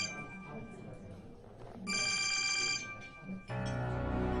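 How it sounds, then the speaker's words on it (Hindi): A phone rings with an incoming call: two bursts of a bright electronic ringtone, the second starting louder, heard indoors over faint background voices. "हमारे बाबा का फोन आ रहा है।"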